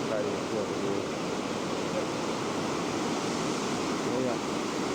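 Small cataract rushing steadily below a bear observatory porch in Alaska, a continuous broadband water roar with no breaks, close and fairly loud throughout.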